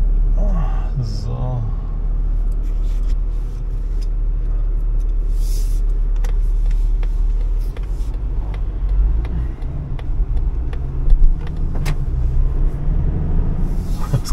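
A car drives its last metres with a loud, close, steady low engine rumble under the cabin, while people talk over it and a few faint clicks and knocks come through.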